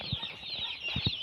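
Hens on a poultry farm holding about 4,500 chickens give a few short, soft clucks, scattered and fairly faint against a steady background hum.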